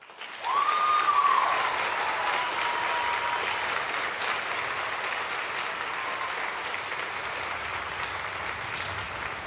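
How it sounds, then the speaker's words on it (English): An audience at a junior high summer music camp performance gives steady applause, a dense, even wash of clapping that starts with a whoop and holds for several seconds at moderate volume. "Let's give them a round of applause."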